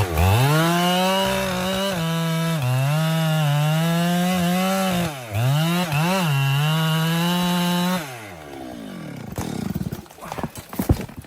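A chainsaw screams steadily through a tree trunk, its loud, close engine pitch wavering and dipping under load before cutting off, followed by the cracking, crashing sounds of the whole tree falling.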